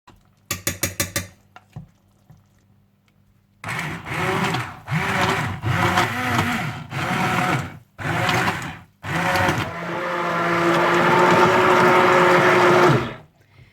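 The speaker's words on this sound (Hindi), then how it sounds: "तो आप इसे हैंड ब्लेंडर या ब्लेंडर के साथ अच्छी तरह से ब्लेंड कर लीजिएगा।" A hand blender whirs in several short bursts, then runs in one long steady stretch, pureeing thick pumpkin soup close to the microphone.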